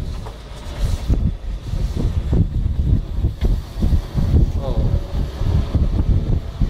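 A 1935 Chrysler Airflow Custom Imperial limousine engine runs steadily through a ride, a continuous low rumble with road and wind noise, while a voice briefly speaks over it.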